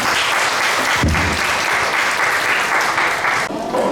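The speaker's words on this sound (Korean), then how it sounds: "오늘 김연희 선생님을 큰 박수로 맞아주시기 바랍니다." An audience applauds a speaker being welcomed at a talk: dense, continuous clapping that stays loud and even throughout, briefly thinning near the end.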